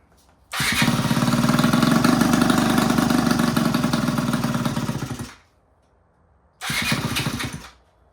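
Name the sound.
scooter engine starting and idling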